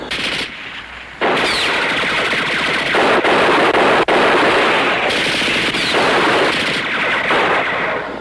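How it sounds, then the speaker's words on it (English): Machine gun fire in a World War II combat TV drama, long loud bursts of rapid automatic shots with dense crackling gunfire, brief pauses between volleys, close and dominant with no speech. "They're pinned down onto the bridge with a machine gun."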